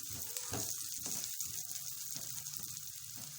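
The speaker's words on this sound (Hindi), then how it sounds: "एक साइड से कुक हो गया है, दूसरी साइड से थोड़ा सा कर लेना है।" A bread omelette fries in a pan, a steady soft sizzle with a few quiet stirring or shifting sounds, close and fairly faint.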